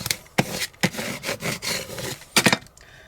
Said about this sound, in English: Now I'm going to grab my, there it is, my scraper, and we're just going to really burnish that on.